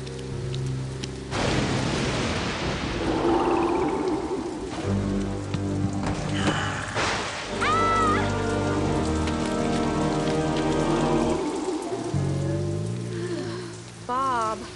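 Steady rain pours down in a cartoon scene, a constant close hiss of drops on surfaces, with musical score and brief bursts of other sounds over it.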